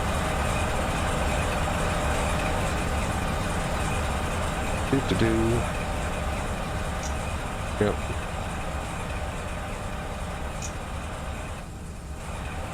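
A CSX Dash 9 freight train in the Run 8 simulator rumbles steadily along the mainline, a constant low drone with faint clanks, while someone briefly speaks over it.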